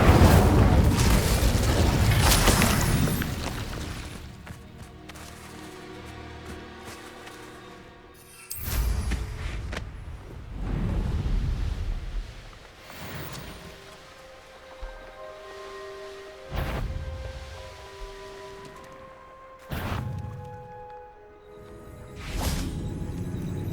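Incendio fire spell cast in the video game Hogwarts Legacy, heard as a loud burst with whooshing flame and booming impacts, followed by several sharper magical bursts and ringing tones over a layered game soundscape.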